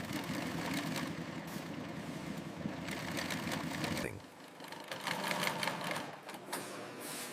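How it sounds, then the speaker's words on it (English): An automated stitching machine runs a test on patterned leather, making a dense, fast mechanical rattle. It stops sharply, pauses briefly, then starts stitching again, close and loud. "A test run is performed on the automated stitching system"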